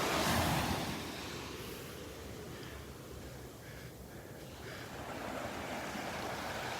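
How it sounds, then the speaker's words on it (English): Small rolling waves wash onto the beach at Delnor-Wiggins on a calm, sunny morning, a steady broadband surf wash with gentle swells and a touch of wind noise, fairly close and continuous with no talk. "This morning we got these little rollers coming in."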